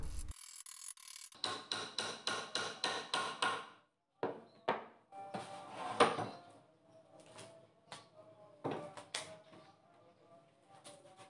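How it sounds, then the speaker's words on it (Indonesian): Wooden dowels are tapped into glued pine boards, producing a run of sharp, evenly spaced knocks, then scattered single taps and clatter, close and clear. "Lalu pasang dowel."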